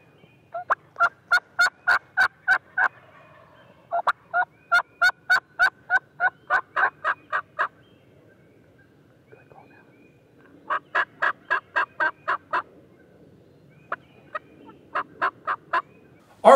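A wild turkey gobbles repeatedly on Ohio public land during a hunt, several rapid rattling bursts in a row, each a quick train of pulses, separated by short pauses, loud and fairly close in a quiet outdoor setting.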